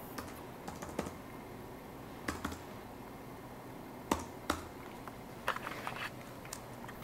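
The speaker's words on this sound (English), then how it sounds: "now I'm going to enter my password" Someone types a password on a MacBook Pro keyboard, with a few soft, irregular key taps in small clusters across a quiet room, and no one speaking.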